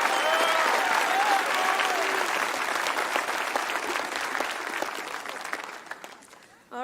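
Graduation audience applauding at a campus ceremony, a dense sustained clapping that begins loud and gradually tapers off, with a few whoops and voices mixed in near the start.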